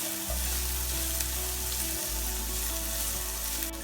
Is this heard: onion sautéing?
yes